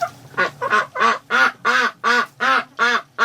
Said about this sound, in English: I haven't heard them quacking like that in a long time.